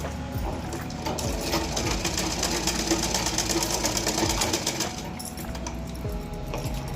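A sewing machine runs steadily, stitching blouse fabric in a continuous, close whirring hum with no pauses and no talk.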